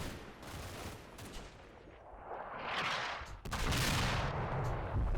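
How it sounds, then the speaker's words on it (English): A mortar round fires amid battlefield effects in the World War II strategy game Combat Mission: Battle for Normandy, with rumbling blasts and crackling bursts over a few seconds and a sharp, loud report near the end. "Oh, that's our mortar round over here, I think,"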